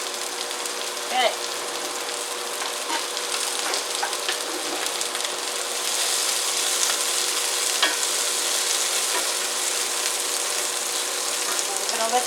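Kung Pao chicken stir-frying in a pan on the stove gives a continuous, even sizzle with faint scraping from stirring, running steadily throughout with no speech.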